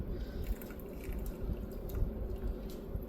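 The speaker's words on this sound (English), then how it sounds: "You gotta be careful when pouring." Water is poured from a kettle into a mug in a close, steady trickling and splashing stream of liquid, continuous with small drip-like bursts, and no talk is heard.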